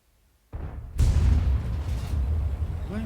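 An artillery gun firing in a tank video game: a sudden loud boom followed by a rolling, rumbling blast that carries on to the end.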